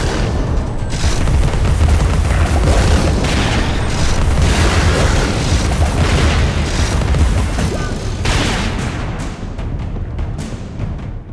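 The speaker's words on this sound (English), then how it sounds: "Just shoot the little baby faces." Gunfire and booming blasts from shooting baby faces in the video game Alice: Madness Returns, a dense loud continuous barrage of explosions and pops that tapers off slightly near the end.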